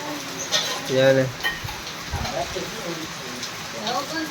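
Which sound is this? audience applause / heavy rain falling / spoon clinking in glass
heavy rain falling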